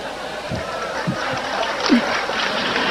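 Audience at a Nahdlatul Ulama anniversary gathering claps in a moderate, steady patter across the hall, with faint murmurs and a chuckle mixed into the sustained applause.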